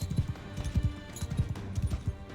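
Rapid rhythmic hoofbeats of a galloping horse in the video game Mount & Blade II: Bannerlord, clip-clopping in quick repeated bursts, close and fairly loud.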